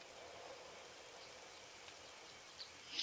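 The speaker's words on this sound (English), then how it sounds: "Oh, it's raining." Rain falling in the survival game 7 Days To Die: a faint, even hiss of rainfall, steady throughout, with a couple of soft droplet ticks and a slightly louder splash at the very end.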